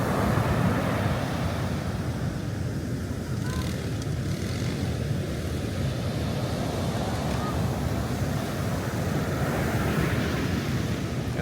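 Steady broadband wash of sea surf at Liwa Liwa, San Felipe, Zambales, rolling on without pause, with a constant low rumble and a faint hiss across the top.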